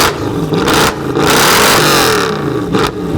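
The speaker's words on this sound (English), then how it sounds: "Rev this bitch for me real quick." A car engine revs hard at a car club meet, loud and close. The engine roars up and holds high for several seconds, with brief dips as the throttle is blipped, and no talking.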